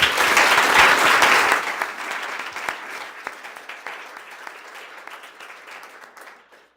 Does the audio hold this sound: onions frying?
no